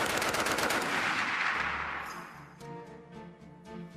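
A Browning Automatic Rifle firing a long rapid burst of booming automatic fire, then a few further shots echoing, loud and close with no talking.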